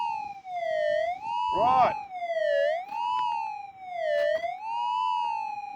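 A GPZ 8000 metal detector hunting gold nuggets gives a warbling target tone that swells and dips in repeated waves, with one brief spoken word.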